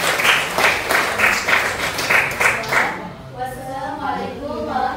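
An audience claps in quick, rhythmic bursts at a PPG PAI teacher-training event at UIN Sunan Kalijaga. The loud applause runs for about three seconds, then fades as a voice begins speaking.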